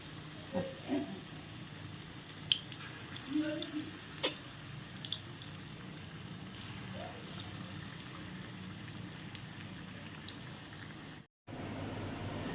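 Food frying in a pan while festival offerings for Janmashtami are cooked, a faint continuous sizzle with occasional light clicks and stirring sounds.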